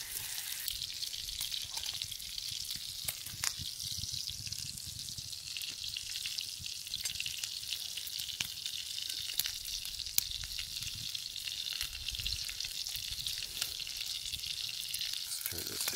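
Brook trout frying in a pan over a backcountry camp stove, a steady, dense sizzle and crackle holding close and even throughout with faint scattered pops.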